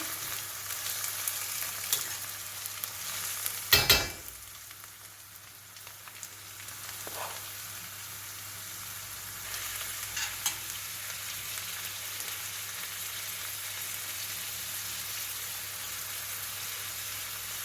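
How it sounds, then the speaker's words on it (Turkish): Meat frying in a pan as filling for stuffed collard green rolls, a steady close sizzle with a sharp clatter near the start, continuing without talk. "Şimdi etleri ekliyorum"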